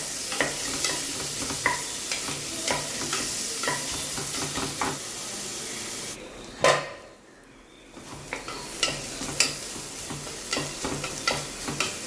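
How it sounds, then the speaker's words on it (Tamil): Onions fry in a pan until browned for a mint chicken dish, a continuous sizzle broken by frequent scraping stirs and clinks, with a brief lull midway. "வெங்காயம் வந்து நல்லா ஒரு ப்ரௌனில் வர வரைக்கும் நல்லா வதக்கி விட்ருங்க."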